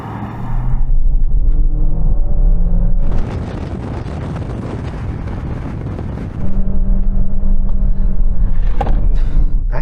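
A car launched at full throttle from a standstill toward 60 mph with no launch control, a loud engine roar climbing through the revs, dipping briefly at a gear change and then surging again.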